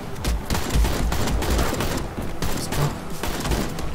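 Dense, continuous AK rifle fire in the brawler game Mother Russia Bleeds, a loud unbroken rattle of shots layered with booms and impacts throughout.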